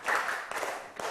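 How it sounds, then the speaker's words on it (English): Hands clapping for a student in a classroom, a few quick, fairly close claps in a short burst. "Let's give him 5 big claps."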